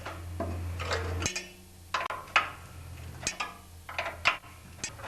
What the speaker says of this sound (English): with a 9/16 wrench, tighten it up a bit